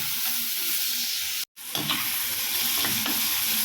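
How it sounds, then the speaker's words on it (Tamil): Tomatoes and onions sauté in a pan, producing a continuous close sizzle with stirring scrapes, broken by a brief silent gap near the middle before the frying hiss resumes; no talking. "வெங்காயம் வதங்கினதுக்கப்புறம் நம்ம தக்காளி சேர்த்து நல்லா வதக்கிக்கலாம்"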